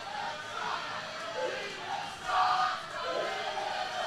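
A wrestling crowd at an independent show, cheering and chanting in a steady roar, a swell of louder shouting partway through, with some voices audible within the noise.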